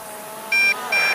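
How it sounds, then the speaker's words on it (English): An MJX Bugs B2W quadcopter gives two short electronic beeps in quick succession, clear and close over faint background noise. "You can hear the machine beeping."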